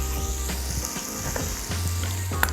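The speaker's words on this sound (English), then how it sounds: "Once we see our tomatoes start to soften, we're going to turn our heat off." Tomatoes sizzling and frying in a pan for shrimp and grits, a continuous close crackle with a few soft stirring scrapes and a low hum underneath.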